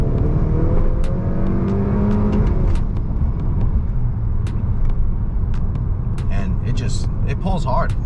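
A Honda Accord 2.0T with a Stage 3 Ktuner tune accelerates hard, engine note climbing steadily with a loud, close drone and a few sharp clicks near the end, no talking.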